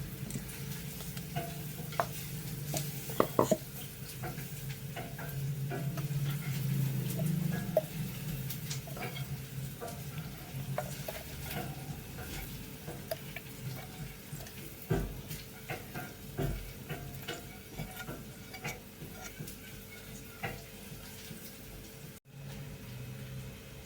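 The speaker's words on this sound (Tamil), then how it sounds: "இது நல்லா ப்ரௌனாக வதக்கி எடுத்துக்கலாம்" Onions and curry leaves fry in a pan until browned for a fish kuzhambu, a soft continuous sizzle under scattered stirring clicks, fairly quiet and even throughout.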